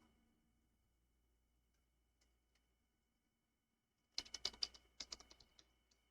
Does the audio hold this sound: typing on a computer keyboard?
yes